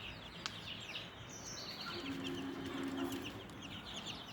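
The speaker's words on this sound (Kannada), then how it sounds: "ನೋಡಿ, ಪುಟಾಣಿ ಮರಿಗಳು" Young chicks on a small poultry farm cheep and cluck softly in a busy, overlapping chorus, faint and steady with occasional sharper peeps.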